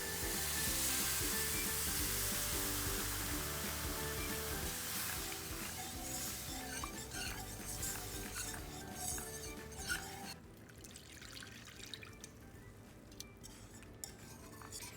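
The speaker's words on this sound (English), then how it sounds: "Now we will gradually start to add the milk and whisk till it is smooth." Milk is whisked into a sauce with onions in a pan on a low-heat stove for baked broccoli mac and cheese; a loud sizzle at first settles into steady frying with light scraping and clinks of the whisk, close by.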